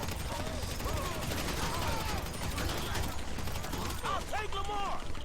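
Gunfire in GTA 5, a rapid crackle of repeated shots and mechanical clatter over a dense game background, moderately loud, with chirping tonal effects mixed in.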